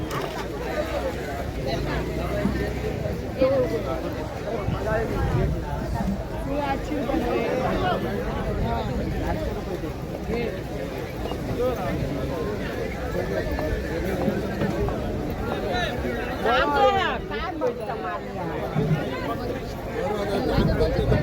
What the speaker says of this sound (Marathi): हळूहळू आता बाजारामध्ये पर्यटकांची आणि मासे विकत घेणाऱ्यांची आपली गर्दी मिळतात